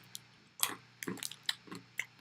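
Close, crunchy chewing of fried Japanese peanuts, with several distinct bites and squishy mouth sounds spaced irregularly, fairly quiet with no talking.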